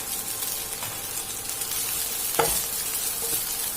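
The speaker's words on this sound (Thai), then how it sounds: "เราจะผัดนานเล็กน้อยนะคะ" Garlic fried rice being stir-fried in a pan, a steady close sizzle with scraping stirs and one louder clank of the utensil midway.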